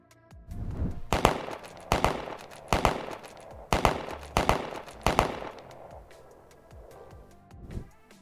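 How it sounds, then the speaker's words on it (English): Sharp bangs ring out outdoors, about six loud cracks spaced roughly a second apart, each with a short echoing tail, the last one fainter, with no talking. "Sounded like a gun went off"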